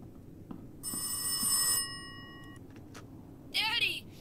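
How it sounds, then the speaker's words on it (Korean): An old-style telephone bell rings in the Rise of Insanity horror video game, a harsh metallic trill lasting about a second, then a faint echo and a whooshing sweep, over a quiet, tense background. "또 어디서 전화가 와?"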